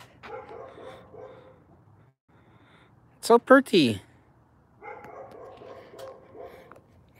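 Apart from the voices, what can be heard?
dogs barking in the background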